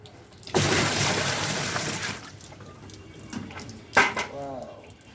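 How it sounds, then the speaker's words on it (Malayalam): Water is poured into a washing machine during cleaning, a steady close splash and rush lasting about a second and a half, followed by quieter trickling, a sharp knock and a brief voice. "നമുക്ക് വെള്ളം ഒഴിക്കാം."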